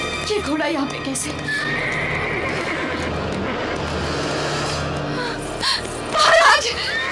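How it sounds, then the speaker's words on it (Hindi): A horse neighs loudly in a mythological drama scene, its whinny rising near the end over a dense, noisy background with voices. "ये घोड़ा यहाँ पे कैसे?"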